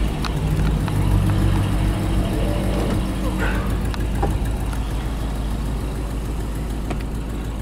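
A 1959 Oldsmobile 98 Holiday Scenicoupe V8 idles steadily just after starting, a loud, close, low rumble running continuously with a faint voice in the background.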